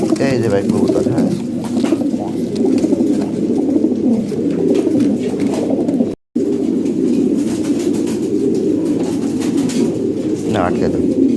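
Fancy pigeons, including Lahori and Sirazi breeds, coo steadily in soft, low, throaty runs throughout, held close by with a brief cut just past the midpoint.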